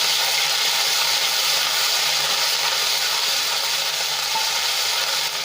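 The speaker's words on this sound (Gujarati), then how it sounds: "અને એને આપણે અડધી મિનિટ માટે સાંતળી લઈશું" Ginger, garlic and green chili paste with a pinch of asafoetida sautés in hot oil, giving a steady, close, even sizzling hiss that holds throughout without pause or voices.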